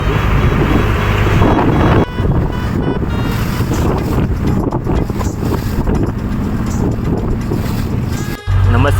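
A fishing boat running out toward deep water off Mumbai in the evening, with strong wind. There is a loud, continuous roar of engine and wind buffeting, nearly unbroken, with one brief dip near the end.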